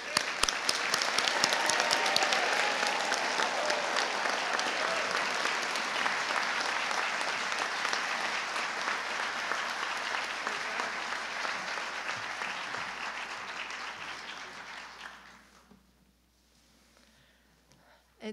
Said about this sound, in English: Let's applause together.